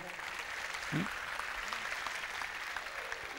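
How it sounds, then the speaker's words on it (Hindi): An audience at a Hindu religious discourse claps for an elder, a sustained, fairly distant wash of applause with a brief vocal sound near the start rising above it. "तो बापा के लिए ताली हो जाए"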